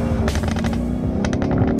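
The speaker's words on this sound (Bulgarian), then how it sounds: "Почва да гърми от гърнетата." Sharp crackles and pops burst from the exhaust of a 625 hp BMW M5 Competition, irregular rapid bangs over a steady engine drone, loud and close throughout.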